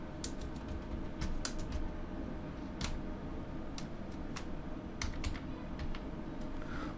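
Keys clatter on a computer keyboard as a TRN number is entered, irregular clicks of typing over a steady background hum, with no talking.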